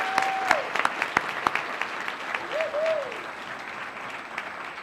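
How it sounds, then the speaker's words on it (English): Audience at a community educators' awards ceremony applauding, a steady wash of many hands clapping for the whole stretch, with a few sharper claps and a brief whistle-like cheer mixed in. "Let's give them a round of applause."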